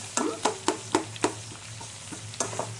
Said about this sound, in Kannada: ಇದು ಚಂದ ಉಳ್ಳಾಗಡ್ಡಿ ಇದ್ರಾಗ ಬೈಬೇಕು